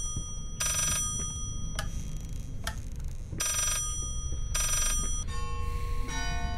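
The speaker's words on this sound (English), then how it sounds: "Stop with the freaking ringing." Bells ring in repeated bright bursts, loud and close, in the horror game Layers of Fear, with ticking clock-like tones between rings and no voices.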